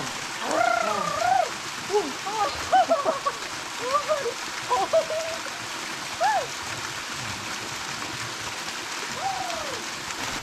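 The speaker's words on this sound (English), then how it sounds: "We've got water running over the rock, clear water, and we've got it all to ourselves." Clear water rushes steadily over rock at a secluded swimming hole near a waterfall, a continuous broadband wash with bird calls chirping intermittently above it.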